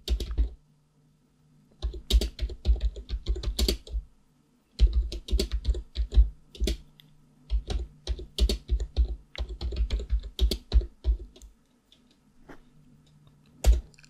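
Quick bursts of typing on a computer keyboard while sudo apt update and upgrade commands are entered to set up an Ubuntu cloud server, clicking keystrokes in uneven clusters with short pauses, close and clear, nobody speaking.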